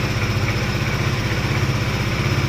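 Daelim S3 250 motorcycle engine idling unevenly, a steady close, loud low rumble with a rapid pulsing beat that wavers slightly, alone without talk.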